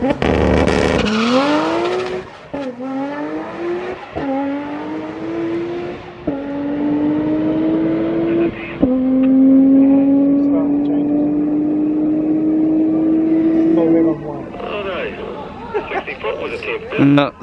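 A 500 kW Nissan R35 GT-R accelerates hard down a quarter-mile strip, its engine note climbing through several gears with brief dips at each shift, loud and close, with people talking over it.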